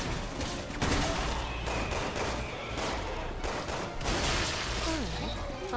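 Gunfire in Resident Evil 6 during a submarine escape crackles as a rapid, dense fusillade of shots, with sharp bursts throughout while a person talks over the battle.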